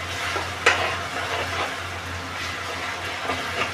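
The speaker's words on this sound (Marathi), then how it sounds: "थोडी 2 मिनटं आलं लसूण मिरची पेस्ट परतायची." Ginger, garlic and chili paste sautés in hot oil for a clam masala, a steady close sizzle broken by scraping stirs, with one sharper clatter early on and no voices.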